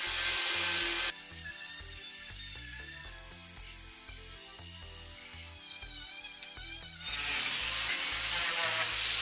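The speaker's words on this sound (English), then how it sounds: "Before I can do any welding, I need to remove the underseal on the back side of the panel" A tool scraping underseal off the back of a steel body panel on a BMW E30 325i, a rapid rasping, ratcheting scrape that repeats in quick strokes, loud and close, framed by brief louder bursts at the start and end.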